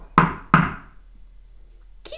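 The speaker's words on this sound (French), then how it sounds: "qui frappe à la porte de la petite taupe?" Two firm knocks land on a door in quick succession, close and loud, followed by a brief pause and the start of another sound.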